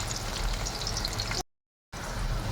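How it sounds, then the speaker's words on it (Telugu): Garlic cloves sizzling in hot oil in a pan during tempering, a steady crackling hiss heard alone, briefly cut to silence before resuming. "వేసిన తర్వాత వెల్లుల్లిగడ్డలు, తెల్లగడ్డలు వేసుకోవాలి. బాగా వేగనివ్వాలి."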